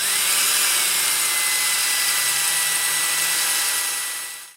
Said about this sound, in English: I'm going to get it in that bushing, get it oiled up. and start the honing process.